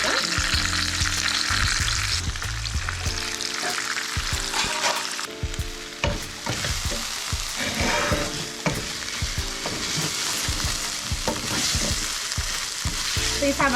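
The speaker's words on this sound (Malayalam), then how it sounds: "അപ്പോൾ കാട ഇവിടെ ഫ്രൈ ആയിട്ടുണ്ട്." Quail pieces for kaada biriyani frying in hot oil, a loud dense continuous sizzle with frequent clattering stirs and scrapes of a utensil against the pan throughout.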